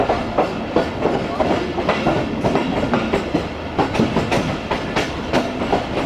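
A coal train rolls past on a Pakistani railway line, a loud, continuous rumble with rhythmic clickety-clack of wheels over rail joints throughout.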